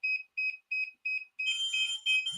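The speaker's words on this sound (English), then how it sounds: "So once you select Mavic Air 2, it'll start beeping, and basically what it's doing is telling you, hey, you need to link it now." A DJI Smart Controller beeps while linking to a Mavic Air 2 drone: five evenly spaced, clear electronic beeps, then a longer, richer chiming tone.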